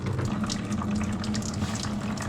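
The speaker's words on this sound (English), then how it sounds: "There's a little downspout and a little thumb screw, so I'm going to open it up and let it drain." Coolant pours from the radiator drain plug of a Mazda CX-5 during a water pump job, a steady close splashing gush of liquid with no break.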